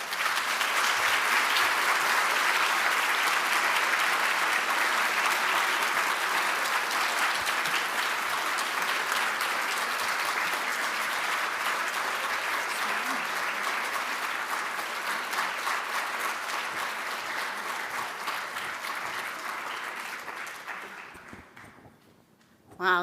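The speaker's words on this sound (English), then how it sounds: "please join me in another round of applause." A large luncheon crowd at an annual fall charity event applauds after a speech, loud sustained clapping that holds for many seconds, then thins and fades out near the end.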